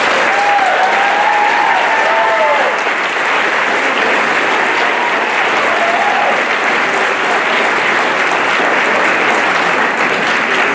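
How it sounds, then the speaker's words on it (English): Graduation audience giving a big, sustained round of applause for 2022 honors graduates, loud, dense clapping from a large crowd that continues steadily throughout, with a few faint cheers mixed in. "Let's give them a big round of applause."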